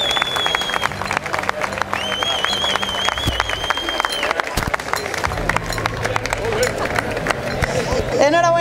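Steady applause from a crowd at an orienteering championship prize-giving in Guadix, continuous dense clapping throughout while an announcer talks over it and a whistle-like tone sounds briefly.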